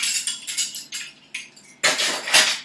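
A container lid, flicked across a kitchen while brownies are being made, clatters in several quick, bright bounces, ending in a louder clustered rattle as it settles. It is close and sharp, with no talk.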